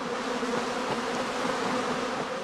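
A swarm of honey bees at a heathland apiary in northern Lower Saxony hums loudly and steadily, a dense, continuous buzz with no voices.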